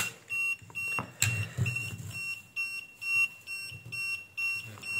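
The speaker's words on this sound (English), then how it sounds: "I will cover the buzzer." A muffled buzzer on an XM-18 incubator controller, held under a cover, gives off repeated short electronic beeps in a steady pulsing rhythm, and a thump lands early on.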